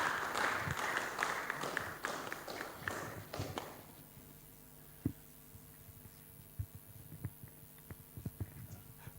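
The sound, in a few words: audience applause at a workshop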